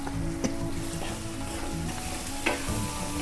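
A salted tomato egg curry is stirred in a hot pan. A constant close sizzle runs throughout, with a couple of scraping strokes of the spoon standing out.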